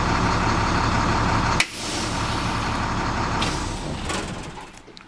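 Bus engine idles steadily with its air brake compressor running, broken by a sharp air-brake hiss and a brief drop, then the rumble continues and fades slightly toward the end.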